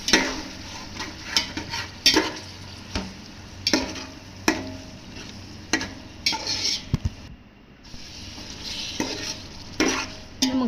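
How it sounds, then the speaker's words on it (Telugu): Chicken pieces being stirred and mixed with masala in a pot for dum biryani, repeated scraping strokes of a spoon against the metal over a soft sizzle, with a short pause partway through. "అది వేసి కొంచెం అదంతా బాగా పట్టేలాగా బాగా మిక్స్ చేసుకోవాలి"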